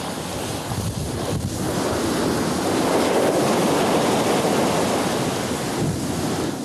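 Ocean surf rolls in where lava enters the sea at Kilauea in 1991, a continuous loud rushing wash with wind buffeting the microphone and no voices.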